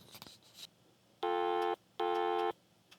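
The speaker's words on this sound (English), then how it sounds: "what you hear as a ringback feedback on the phone you're calling from. It just goes like burr, burr" Two electronic telephone ringback tones on an old internal phone extension, each a steady buzzing burr lasting about half a second, separated by a short pause, with faint relay clicks around them.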